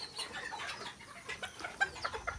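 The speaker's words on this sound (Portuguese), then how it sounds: "Aqui tem 3 galos com 5 fêmeas aqui." Mini Garnisé bantams, three roosters and five hens penned together, cluck in a busy, overlapping stream of short calls against a steady background hiss.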